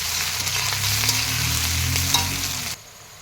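Whole sliced onions sizzle and crackle in hot oil in a pan, a loud steady fry that cuts off abruptly near the end.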